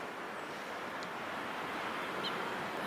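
Strong wind gusting through a garden on a windy day, a constant broadband rush with rumbling buffets on the microphone and no voices.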